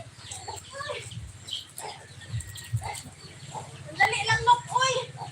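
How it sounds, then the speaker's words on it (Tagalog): Chickens cluck and chatter in short bursts close by, with people talking over them and a brief flurry near the end. "Mga manok."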